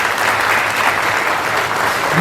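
A crowd at a Yanga club championship speech applauds loudly, a dense, even wash of clapping held steady from start to finish.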